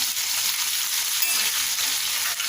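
Dense, continuous sizzling of onions and green chilies sautéing in hot oil in a pan, close and steady, with no voices.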